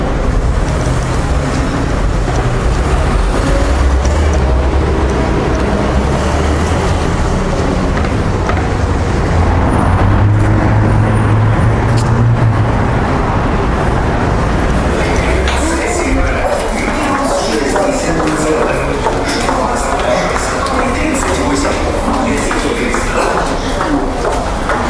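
Busy city street at lunchtime in Rostov-on-Don, with a steady wash of passing cars and crowd bustle, a heavier vehicle rumbling past midway; someone speaks over the traffic noise.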